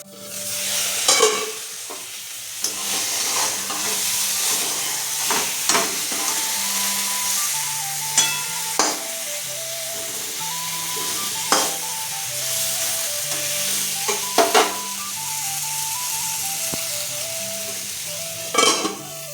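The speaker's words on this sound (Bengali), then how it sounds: "তেলের মধ্যে মাছ দিয়ে এত দূরে সরে যাচ্ছে, কারণ পাবদা মাছ এত ফোটে।" Pabda fish spluttering and sizzling in hot mustard oil in a pan, a steady loud hiss broken by sharp crackling pops and bursts, heard alone without speech.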